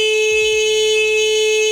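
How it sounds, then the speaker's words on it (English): The horn of a Segway GT3 Pro electric scooter sounds one loud, steady electronic tone from about six feet away, held unbroken for nearly two seconds before cutting off abruptly. "we're gonna test how loud the horn is"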